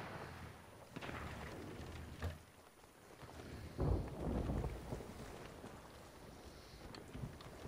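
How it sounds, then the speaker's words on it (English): A video game storm at sea while sailing, with gusting wind and rushing water swelling and fading, a heavy surge in the middle, and no talking over it. "that storm was coming."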